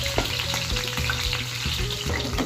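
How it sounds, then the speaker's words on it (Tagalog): Potatoes frying in a small amount of oil for a goat kaldereta with coconut milk, giving a loud, continuous, dense sizzle with a steady low hum and occasional stirring knocks, no voices. "Ilagay na natin itong ating patatas. Para tipid tayo sa mantika mga kachan."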